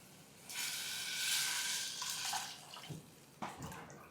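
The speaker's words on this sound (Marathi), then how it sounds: "आणि यामध्ये भरपूर पाणी घालायचं." Water pours softly into a pot of moth bean (matki) dal for a couple of seconds, followed by two light knocks. Quiet and close, with no talking.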